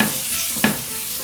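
An oiled paper towel wiped across a nonstick frying pan before cooking pancakes, heard as a soft continuous rubbing hiss with one brief scrape partway through, close and quiet, with no talking.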